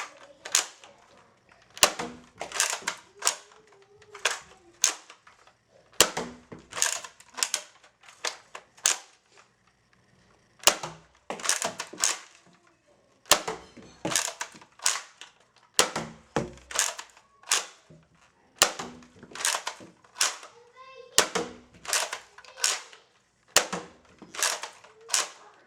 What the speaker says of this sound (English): That is a firing test of the Nerf Rival Roundhouse.